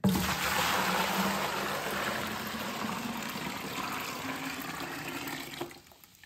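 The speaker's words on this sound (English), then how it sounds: "Now we just gotta dump it in the bucket." Nearly boiling hot water pours from a pot into a shower bucket in a cabin, a close, rushing splash that runs steadily for several seconds before tapering off.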